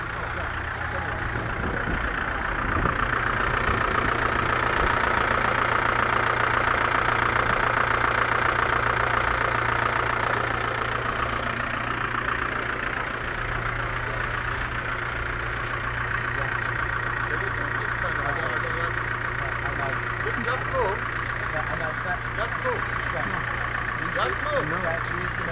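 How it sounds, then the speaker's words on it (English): A diesel engine idles steadily throughout, a continuous low droning rumble up close with a constant steady tone, while people talk over it for much of the time. "And you're idling your diesel engine."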